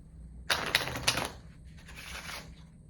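A deck of playing cards shuffled by hand during a close-up magic trick, a few sharp riffling bursts followed by a softer, longer flutter of cards, close and fairly quiet.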